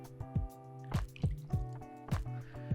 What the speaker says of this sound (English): you just pour this over the mixture as a whole